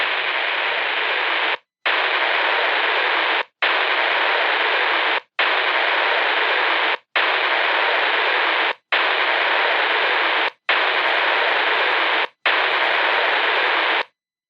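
A purported Stonehenge radio transmission, recording 16A, plays as loud, even bursts of radio static hiss, about eight of them separated by brief silent gaps.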